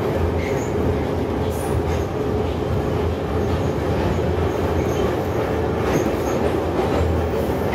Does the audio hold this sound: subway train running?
yes